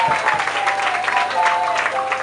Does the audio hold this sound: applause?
yes